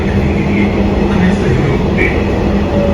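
Kanpur metro train running at close to its top speed of about 70 km/h, a steady loud rumble and rail roar heard from inside the carriage, continuous throughout.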